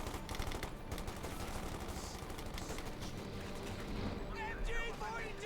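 MG42 machine gun fire in a Company of Heroes 2 battle, a dense, steady rattle of bursts running low in the background beneath a commentator's continuous voice.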